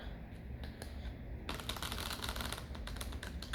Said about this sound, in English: first I'm trying to get the cards as shuffled as I can.